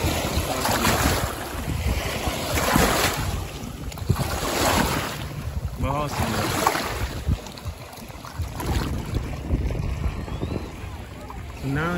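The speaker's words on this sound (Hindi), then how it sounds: "Big wave." Waves slap and wash against a boat on Lake Travis, a reservoir in Austin, Texas, with loud wind buffeting the microphone and a constant rushing of water throughout.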